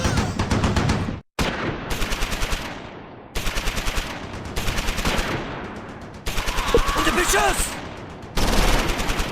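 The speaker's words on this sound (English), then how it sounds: "Carter's squad puts small arms fire into the mortar half-track." Small arms fire rakes a mortar half-track in Close Combat 4, a World War II game battle at Simmerath, Battle of the Bulge: repeated bursts of rapid gunfire in several loud volleys, broken by brief gaps.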